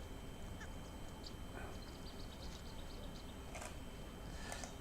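Teal ducks call from the Urdaibai wetland with several faint, scattered quacks and chirps over a steady broadband hiss of wind or ambient noise, distant rather than close.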